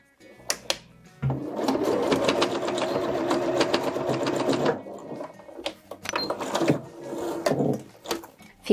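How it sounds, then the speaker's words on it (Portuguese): A domestic sewing machine stitches a fabric toiletry bag, running in steady bursts with short pauses and a brief reverse backstitch, close and fairly loud with no talking. "Começa a costurar com o retrocesso."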